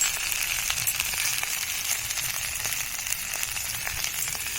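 Ground ginger, cumin and chili powder spice mix sizzles in a hot pan, a steady, bright frying hiss with no talking.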